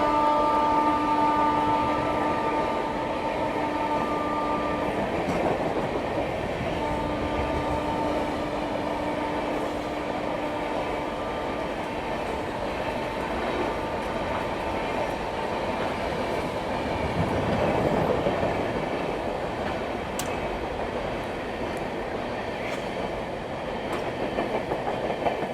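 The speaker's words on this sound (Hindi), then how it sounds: "तो ये थी शिव गंगा एक्सप्रेस।" The Shiv Ganga Express on an Indian route between New Delhi and Howrah runs along the rails in a long, steady rumble of wheels and carriages, with a horn-like tone sounding early on and no talk.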